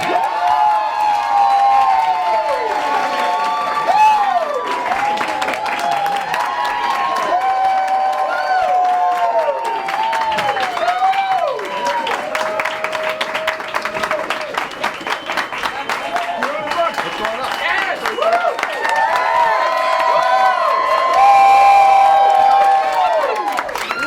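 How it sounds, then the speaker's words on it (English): An audience at a live reading of 'You'll Be Perfect When You're Dead' cheers, whoops and applauds loudly and continuously, the crowd noise swelling and dipping, with voices shouting over it. "Obviously, the crowd is super excited."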